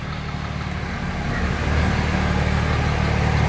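Cummins-swapped truck engine idling steadily close by, its low mechanical rumble rising slightly as it runs, with no talking.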